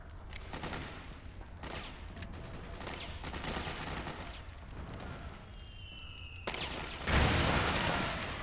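Bursts of gunfire crackle across a battlefield in Metal Gear Solid 4, with repeated shots over several seconds and a louder blast near the end, all at steady mid distance with no voices.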